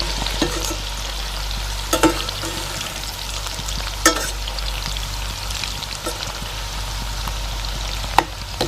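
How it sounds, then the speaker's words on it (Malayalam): Boneless chicken pieces for Indo-Chinese dragon chicken deep-fry in hot oil with a loud, steady crackling sizzle, broken by a few sharp pops and stirring clinks. "ക്രിസ്പി ആയിട്ട് വറുത്ത് കോരി എടുക്കുക"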